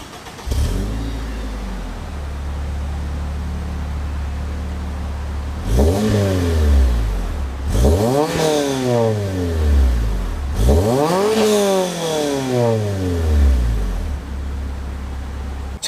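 An Acura RSX DC5 engine idles steadily, then is revved three times in a row, each blip rising sharply and falling back to a close, loud idle, with no talking.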